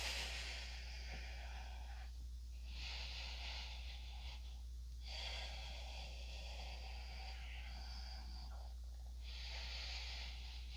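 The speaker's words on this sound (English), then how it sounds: "breathing deeply" Slow, deep breaths drawn during a yoga session, airy inhales and exhales repeating in a steady rhythm of about four seconds, close and clear over a constant low hum.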